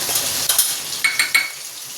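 Ground spices (turmeric, cumin and chilli powder) with green chillies fry in a pan, giving a steady close sizzle broken by a few short scrapes and clinks of a spoon stirring against the pan.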